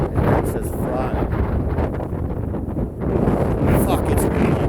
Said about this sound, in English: It's so fucking windy.